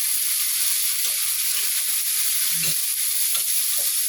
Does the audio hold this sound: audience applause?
no